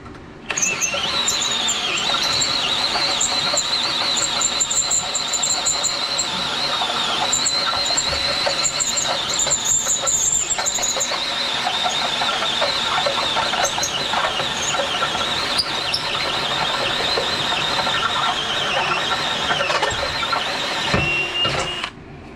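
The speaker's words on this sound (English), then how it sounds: "These uni bits, they sure are handy for doing stuff like this." Step drill bits (uni bits) bore holes through metal for a surf cart lift, a loud continuous high-pitched drill whine and grinding that holds steady throughout.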